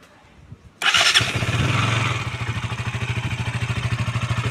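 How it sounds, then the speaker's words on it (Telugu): A 2022 KTM Duke 200 BS6 motorcycle cranks and fires up abruptly, then settles into a steady, loud, throbbing idle nearby. "ఒకసారి మనం బైక్ అయితే స్టార్ట్ అయితే చేసి చూసుకుందాం."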